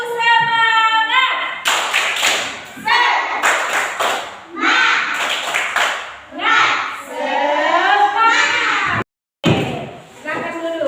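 A school class doing tepuk semangat, bursts of rhythmic group clapping and stamping in a classroom interleaved with children chanting in unison, loud and close, with one brief silent gap near the end.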